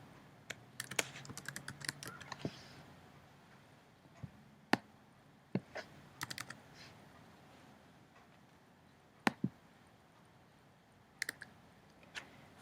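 Quiet, sparse keystrokes on a computer keyboard while working in Microsoft Word: irregular single clicks and short bursts of typing with pauses between them, alone without speech.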